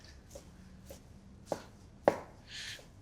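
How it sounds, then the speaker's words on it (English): Raw beef is hand-chopped with a sharp knife for steak tartare, giving a few sharp knife strikes on a board, two louder than the rest, with quiet gaps between them and a soft scraping swish at the end. "Of course, you need a good sharp knife to cut all those meat"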